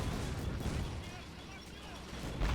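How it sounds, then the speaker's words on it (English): An explosion booms in the World War II strategy game Men of War Assault Squad 2. The deep rumble fades out under a player talking. "So that explosion gave me a little bit of a jump scare"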